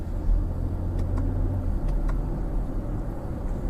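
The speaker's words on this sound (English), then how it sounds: "You have this high revving, really familiar engine" BMW X7 xDrive40i engine running in a steady low rumble inside the large SUV, heard close from the cabin with no talk over it.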